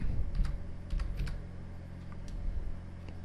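Someone types a command on a computer keyboard, with soft, irregular key clicks in short bursts close by over a low background hum and no voices.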